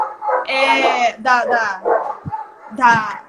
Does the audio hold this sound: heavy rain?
no